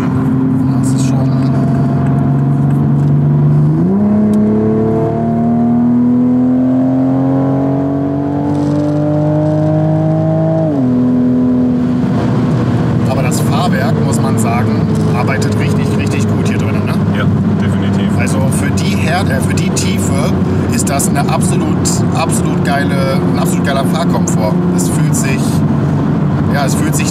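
A Toyota Supra MK5 with ESP switched off accelerates hard, its engine note rising loudly and steadily, easing back, then climbing again, with heavy road and wind roar and someone talking over it.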